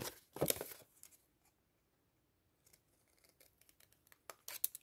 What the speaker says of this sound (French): avec mon ciseau, couper le losange